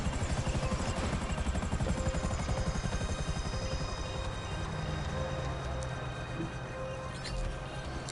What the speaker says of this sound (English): actually it sounds like a helicopter. Coming in low.